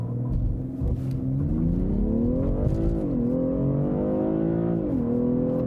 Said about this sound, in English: then we'll accelerate it out just a little bit for you, because that's good to see here with the all-wheel drive